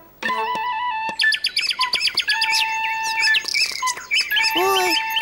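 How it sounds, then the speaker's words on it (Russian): Cartoon birds squawk and quarrel in a rapid, busy tangle of chirps, tweets and harsh calls, loud and close, with a brief warbling squawk near the end and no talk. "Ой, птички стали ссориться."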